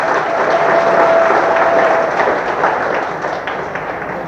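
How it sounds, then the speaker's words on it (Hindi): An audience at a ceremony applauds with dense, sustained clapping that stays loud for a few seconds before gradually thinning out. "तो आप लोग ताली बजा सकते हैं।"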